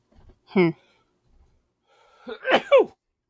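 A sneeze from a person bursts out loud and close, a short two-part sneeze sound that rises into a sharp peak, after an earlier brief vocal burst and a pause of near silence.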